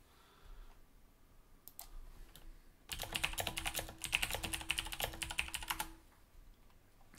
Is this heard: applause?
no